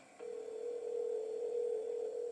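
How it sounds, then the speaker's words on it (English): A steady telephone tone holds at one pitch for about two seconds after a brief click, fairly quiet and alone with no talk. "Pick up the phone, Larry."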